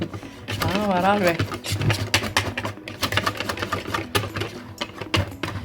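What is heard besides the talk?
lightly whipping cream with a mixer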